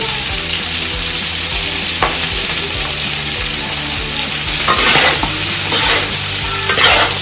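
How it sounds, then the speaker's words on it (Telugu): Green chicken pulao being stirred in a pan over a high flame, giving a steady, close sizzle with repeated scraping strokes of the spoon and no talking. "అడుగు అంటకుండా కలుపుకుంటూ ఉండాలి ఫస్ట్ ఒక టెన్ మినిట్స్ హై ఫ్లేమ్లో"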